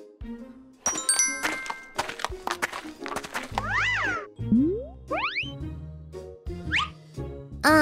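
A cartoonish cat meows among playful boings, squeaks and sliding whistle-like tones over light music.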